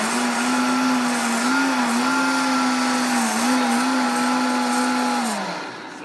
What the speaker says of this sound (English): we'll just turn our blender on and begin blending